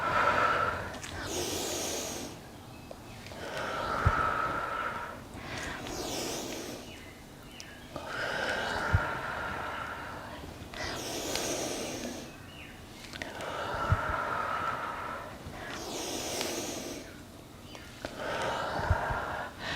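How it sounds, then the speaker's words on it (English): Slow, deep breaths during a yoga class, with audible inhales and exhales close to the microphone, repeating in an even rhythm about every four seconds with no talking. "Inhale, exhale."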